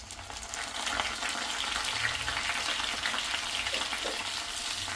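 Dried red chillies fry in hot peanut oil with a steady, dense sizzle and bubbling crackle that runs unbroken and fairly loud from start to finish, with no voices.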